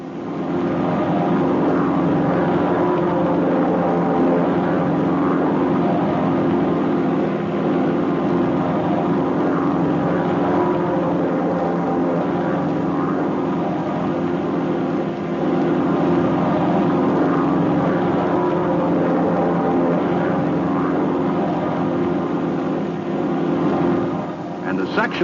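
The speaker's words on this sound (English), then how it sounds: "To then form left echelon, the number 2 plane flies back across first." Several propeller airplanes fly in formation, three- and four-plane echelon maneuvers during flight training, giving a steady, loud engine and propeller drone that holds throughout with little change.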